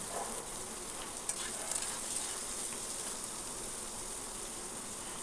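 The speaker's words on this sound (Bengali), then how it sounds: "আবার কড়াইতে তেল দিয়ে আমি আলুটাকে ভেজে নিচ্ছি" Potatoes frying in oil in a wok give a steady, dense hiss that runs evenly throughout, close but quiet, with a few faint stirring scrapes early on and no talk.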